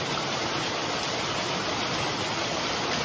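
Steady, dense rush of a stream flowing beside a farm trail on a rural property with orchard and springs, a continuous broadband wash of water close by with no pauses and no voices.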